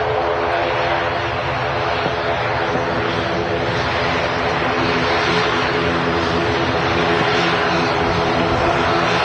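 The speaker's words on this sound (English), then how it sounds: "Aer Lingus Regional in from Dublin." An Aer Lingus Regional airplane arriving from Dublin at Manchester Airport gives a steady, loud engine roar that holds throughout without breaks.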